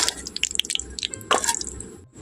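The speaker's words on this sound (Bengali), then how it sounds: "এখন এই রকম ছাকনির ওপরে তুলে নিচ্ছি ঝাড়ার ওপরে খুব ভালোভাবে যাতে তেলটা ঝরে যায়" Crisp fried onion rings rest on a strainer as oil drains off them, with light dripping ticks and scattered crisp rustles, close and fairly clear.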